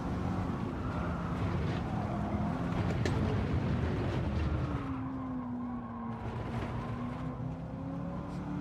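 Tyres scrub and skid under fully locked braking in a racing video game, a sustained engine tone sliding downward in pitch over a rough rushing noise that eases slightly toward the end.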